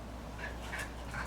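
A dog whimpers softly in a few short, high whines over a steady low background hum, faint and close, with no talk.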